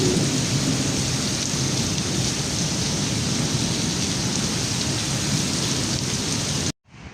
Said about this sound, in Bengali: মরুভূমির দেশে রহমতের বৃষ্টি।